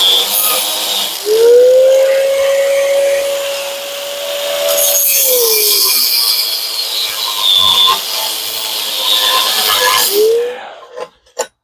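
A power tool grinds through a metal power steering bracket with a steady, loud, high whine that holds for several seconds and then winds down, over a constant rushing noise.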